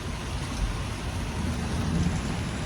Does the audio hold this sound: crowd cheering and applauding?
no